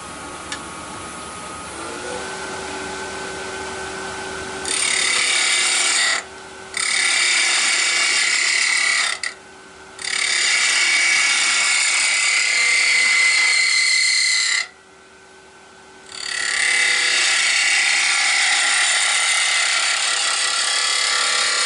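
Bright, harsh shearing of a spindle gouge cutting a small yew hollow form on a woodturning lathe, coming in long passes that stop briefly between them, over the lathe's steady hum.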